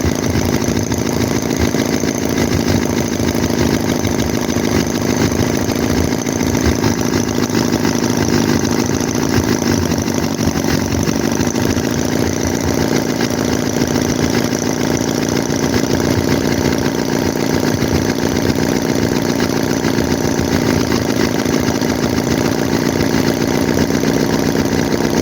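A Chinese-made Holt H75 vintage four-cylinder model engine runs steadily and loudly throughout, an even close-up drone with only a slight misfire and no talking.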